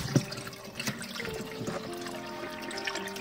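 Water runs from a pipe into a bucket for a homemade automatic cattle water bowl, a steady trickling and splashing with a few louder drips, fairly close and with no talk.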